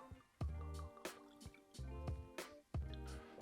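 Redbreast Lustau Edition Irish whiskey, 46% ABV and non-chill filtered, poured into a glass, giving close, quiet liquid trickles and drips in several short bursts with brief pauses between them.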